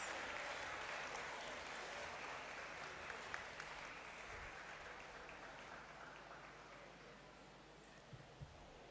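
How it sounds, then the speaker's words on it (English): Audience at a pharmacy school white coat ceremony applauding preceptors as they return to their seats, a faint, steady wash of clapping that slowly thins toward the end. "Please let's clap for them as they resume their seats."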